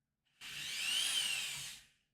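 A power drill with its bit not properly seated spins up for about a second and a half in a steady, close, high whine, then winds down, with no talk.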